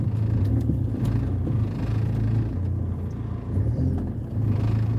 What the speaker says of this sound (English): But I'll turn the car around